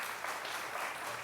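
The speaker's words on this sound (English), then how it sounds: "Y'all give her a round of applause." Classroom applause for a student honored as a Terrific Kid at Moseley: a steady, dense wash of clapping for a brief moment, with no talk on top.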